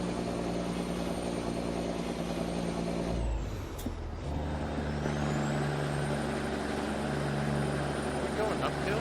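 Heavy truck engine in American Truck Simulator drones steadily and loud throughout, lugging in too high a gear on a possible uphill, with a brief air-brake-like hiss dipping the roar midway; someone talks over it.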